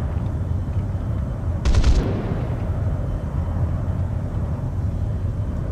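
Aircraft cannon in War Thunder firing from a De Havilland Venom at a Sabre, one brief rattling burst over a constant loud engine roar.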